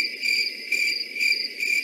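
Steady cricket chirping repeats in a continuous pulsing rhythm with a few brief swells, fairly loud and close, with no voices or other sounds alongside.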